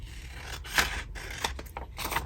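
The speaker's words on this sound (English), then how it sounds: "So I'm going to cut down this edge." Scissors cutting along the edge of a piece of paper ephemera for a collage, a few close, crisp snips and paper scrapes with short pauses between them, no voices.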